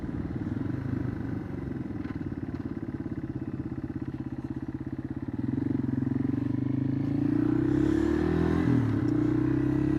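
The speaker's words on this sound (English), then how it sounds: "A little engine braking here." A motorcycle engine drones steadily nearby, its low throbbing pitch shifting as the bike slows under engine braking, with wind noise around it.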